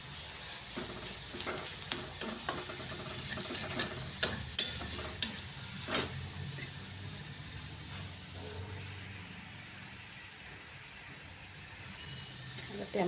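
Chopped onion, browned red with two spoons of turmeric stirred in, fries in a pan with a steady soft sizzle and a few sharp scrapes of the spoon near the middle, and no talking over it.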